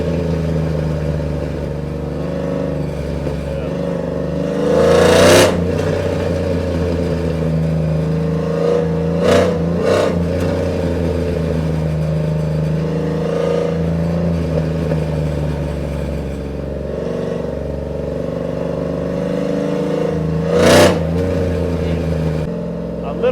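A cammed Chevrolet Silverado 5.3L V8 with longtube headers rumbles steadily at close range, swelling into several sharp revs over a deep, loping idle.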